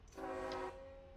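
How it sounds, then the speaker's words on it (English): A CSX locomotive horn in the Run8 Train Simulator game sounds one short, steady, chord-like blast of under a second, fairly faint, with no talk. "Oh, I got the CSX horn."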